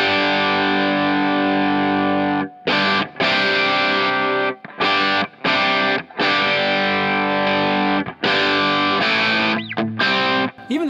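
Electric guitar playing chords through a Klon overdrive pedal set low gain as a clean boost, with light crunch and a boosted level, loud and close, with brief gaps between strums.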